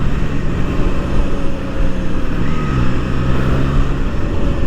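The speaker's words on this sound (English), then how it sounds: "First impression is that the engine is smooth." A Triumph Trident 660 motorcycle's smooth inline-three engine runs at a steady, loud, even drone while riding, blended with continuous wind rush and no voices.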